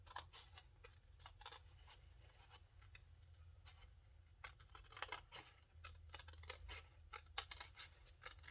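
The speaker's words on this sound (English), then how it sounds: "These scissors are awkward, but they're the smallest scissors that I have" Small scissors snipping through a paper junk journal cover on a composition notebook, giving a steady run of quiet, close clicking cuts at an irregular rhythm over a low background hum.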